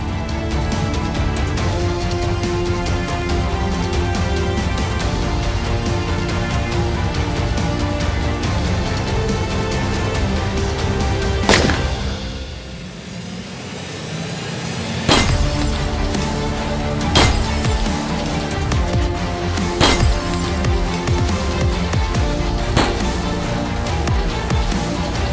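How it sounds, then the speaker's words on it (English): Rifle rounds strike an armoured Nissan Patrol Y62, a WELP Armouring F62-NPC700, during ballistic certification testing: several sharp, isolated impact cracks land a few seconds apart over a continuous music bed. "The marksman aims and shoots down at the vehicle from various angles."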